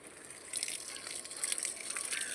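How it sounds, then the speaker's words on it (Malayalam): Water gushes and splashes steadily as it is poured for okra and chili plants, starting after a brief quiet moment and continuing as a close, even hiss. "ഒഴിക്കാനായിട്ട് വെള്ളം എടുക്കട്ടെ"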